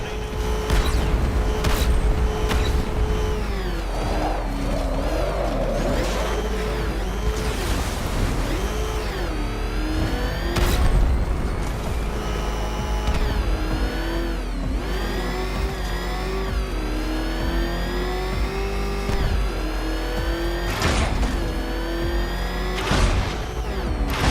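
The Batmobile's engine in the Batman: Arkham Knight video game roars and revs steadily with rising and falling pitch, layered with booming impacts, gunfire-like bursts and dense game effects throughout.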